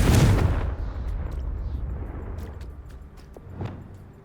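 A Confringo fire spell bursts in the video game Hogwarts Legacy, one loud booming explosion at the start that fades into a rumbling tail with faint crackles.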